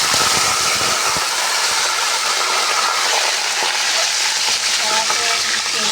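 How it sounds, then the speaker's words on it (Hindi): Chicken fries in about a cup of hot ghee with a dense, continuous sizzle and crackle, with a few clattering knocks of utensils near the start. "ये जो मैंने घी रख दिया है 1 कप, इसके अंदर अब मैं चिकन डालूँगी, या मैं चिकन को जो है ना फ्राई करूँगी।"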